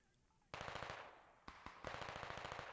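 Rapid bursts of automatic gunfire in a squad-based video game, two short volleys of crisp repeated shots separated by a brief pause, moderately distant and without talk.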